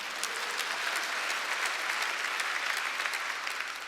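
Church congregation applauding during an Easter Sunday worship service, a dense, steady wash of many hands clapping at close range, sustained evenly throughout with no voices over it.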